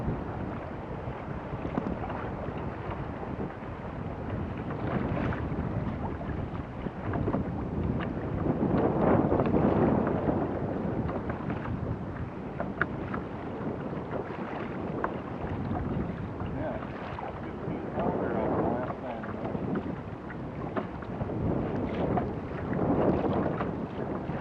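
Strong wind buffets the microphone from a kayak on Lake Michigan, a loud fluctuating roar with gusts swelling and fading, mixed with water splashing.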